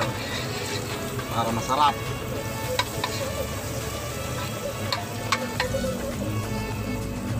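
Butter melting in a hot frying pan gives a steady, close sizzle with small crackles and a few sharp clinks, while a voice talks over it.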